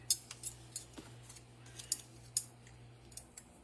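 Scissors snipping through quilt design cards, a series of crisp, close cuts in an irregular rhythm with short pauses between them, over a steady low background hum.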